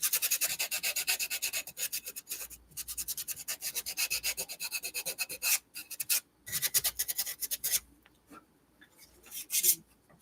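Repeated hand sanding of a building model with a concrete texture, a close, raspy scratching in quick back-and-forth strokes that come in bursts with short pauses between them.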